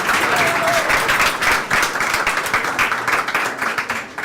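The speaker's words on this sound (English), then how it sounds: "Let's give a warm applause to Arsen." A crowd gives warm applause at an e-residency birthday event, dense continuous clapping with a few louder individual claps, steady throughout.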